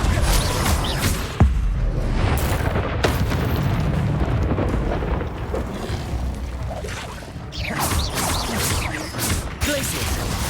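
Confringo fire spells explode in the Hogwarts Legacy video game, with repeated booms and crashing blasts over a dense, continuous rumble of combat noise.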